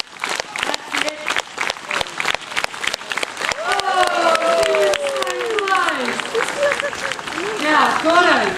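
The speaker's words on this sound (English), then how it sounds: "Start with your slow clap and then build up." A crowd at Melbourne Zoo claps in a slow, steady beat that quickens into scattered applause, with people calling out and laughing over it.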